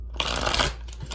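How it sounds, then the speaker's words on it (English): A deck of cards being shuffled up close, a dense riffling rush lasting about a second with no voices. "I try not to shuffle and talk at the same time"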